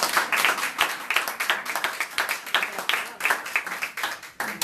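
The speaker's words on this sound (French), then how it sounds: "si vous voulez applaudir, faites-le pour Hachem." Audience applause in a lecture hall, a dense spell of many hands clapping with uneven bursts and dips over nearly five seconds, fairly loud and close, with a bit of murmuring mixed in.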